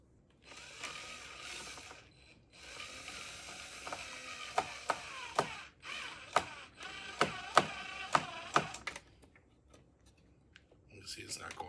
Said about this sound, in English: screw in through the side to go through this block